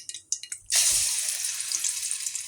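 Marinated chicken goes into three tablespoons of hot oil in a pan, a few light clinks giving way to a sudden, loud, steady sizzle that continues to the end.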